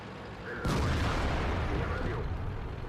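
Tank cannon fire in World of Tanks: a sharp, loud boom near the start rolls into a sustained rumbling blast that slowly fades, with engine and battle noise underneath.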